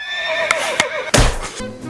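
A horse neighs loudly in a wavering whinny, broken by a couple of sharp clicks and then a heavy thump, with no talking over it.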